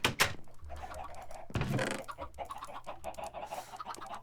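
Chickens cluck in the Minecraft video game, a series of short, choppy bird calls layered amid busy game sounds, with a louder burst midway through.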